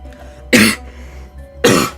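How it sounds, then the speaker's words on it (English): Two sharp coughs from one person, close and fairly loud, spaced about a second apart with quiet between them. "sorry I keep coughing"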